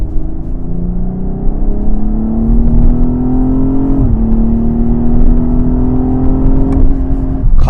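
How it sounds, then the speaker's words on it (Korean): A BMW 840i Gran Coupe's gasoline six-cylinder engine pulls hard in Sport Plus mode, a loud, close engine drone rising steadily in pitch with a brief dip at a gear shift before climbing again. "가솔린에다가 스포츠 플러스를 두니까 6기통 엔진 조합이 지금 대박입니다."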